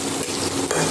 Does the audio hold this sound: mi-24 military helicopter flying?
no